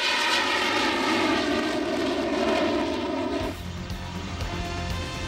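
A fighter jet roars steadily overhead, a broad loud engine rumble that shifts in tone partway through as it passes, with no voices.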